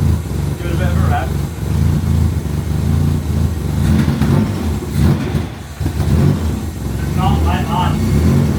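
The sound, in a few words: Mazda MX-5 engine revving with homemade exhaust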